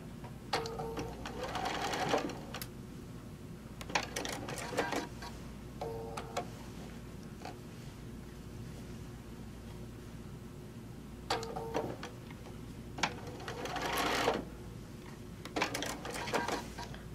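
A sewing machine stitches tacks through a quilt in several short bursts of rapid mechanical rattling, separated by quiet pauses, close and fairly loud with no talk.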